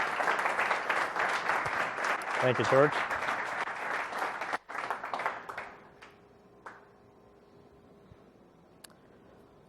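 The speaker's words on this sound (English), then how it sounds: "Give it a round of applause." An audience at a product management meetup applauds as a speaker takes the stage, dense clapping that builds and then dies away after about five seconds, followed by a brief spoken thanks and quiet room noise.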